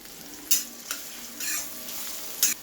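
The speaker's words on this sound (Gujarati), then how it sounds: "तेल गरम थयुं के आपणे 1 टीस्पून जीरुं नाखीशुं, हाफ टीस्पून हींग नाखवानी छे। जीरुं सारुं ततळे तमारे एक झीणी समारेली डુંગળી नाखवानी छे।" Cumin seeds and finely chopped onion sizzle in hot oil with a little asafoetida, a steady close crackle with a few louder spits, heard alone.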